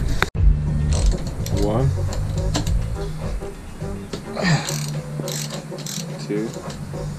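Ratchet wrench working 12mm screws on a Suzuki GS250FW motorcycle, short bursts of fast clicking repeated several times under close mechanical rattles, with someone speaking briefly.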